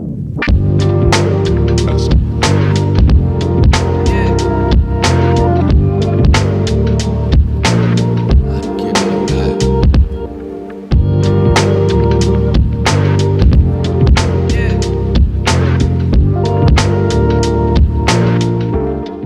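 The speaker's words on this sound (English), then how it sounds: "I decide to test a simple method of heating the plastic with a hairdryer." A hairdryer heats the plastic of a 1994 Walmart Country Star western toy horse, giving a loud, steady whirring hum with a rhythmic throbbing pulse that drops out briefly midway before resuming.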